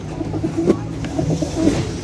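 Pigeons coo softly and repeatedly, low throaty burbles close by, with light rustling in the background.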